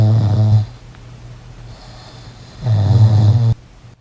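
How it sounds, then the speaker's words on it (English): Recorded snoring played back: two loud, deep, rumbling snore breaths separated by a quiet gap, with no talk over them. "I've recorded you snoring."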